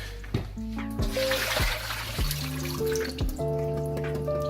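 Cold water drains from boiled potatoes into a kitchen sink, a close, loud pour with scattered drips and clattering knocks of the pot against the basin.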